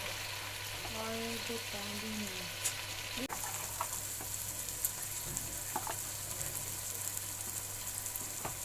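Tomatoes fry in a pan with ground red chili powder for spicy okra, a steady close sizzle with a few scraping stirs, and faint tonal sounds in the first seconds.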